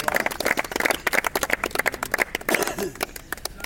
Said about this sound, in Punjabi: ਲਓ ਜੀ ਤਾੜੀ ਮਾਰੋ